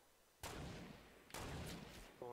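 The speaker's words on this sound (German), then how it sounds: "Schüsse?" Gunfire in a multiplayer shooter video game: two loud, booming bursts of shots with long reverberant tails, a second apart, followed by the start of a third.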